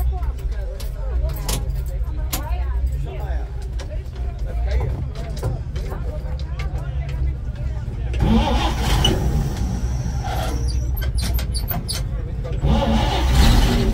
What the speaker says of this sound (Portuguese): você bota energia na chave, parte o motor de arranque ali no pé